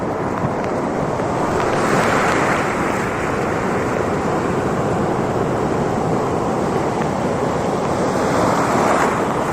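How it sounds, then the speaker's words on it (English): Rough monsoon sea waves surging and breaking close by, a loud continuous roar of surf with wind buffeting the microphone, swelling slightly in places, with no voices. "Let me show you more about the monsoon sea."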